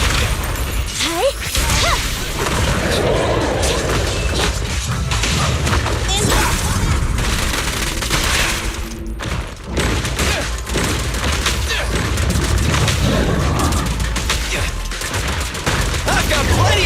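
Gunfire and combat effects in the video game Zenless Zone Zero, a dense, continuous barrage of shots, whooshes and impacts running the whole time, loud and busy, with game voices mixed in.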